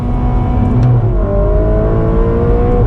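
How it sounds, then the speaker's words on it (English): A Ferrari Roma sports car engine revs hard and holds near the top at the rev limiter, its pitch dropping and steadying in a loud, continuous drone close by. "when the rev limiter cuts in, it should switch to the next gear instead of slowing down"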